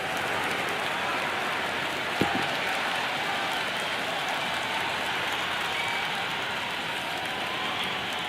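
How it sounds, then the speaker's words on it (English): A raucous cricket crowd roars in the Cricket 26 video game at a BBL match, Sydney Thunder against Adelaide Strikers, as a steady dense wash of cheering with one brief sharp knock early on. "The crowd are really getting quite raucous."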